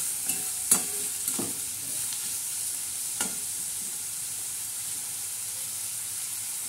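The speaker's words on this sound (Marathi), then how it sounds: "आता मस्तपैकी आपला तडका बसत आहे" Tempering spices hitting hot oil for a chickpea usal, a soft steady sizzle with a few sharp crackles and pops near the start, fairly quiet and close.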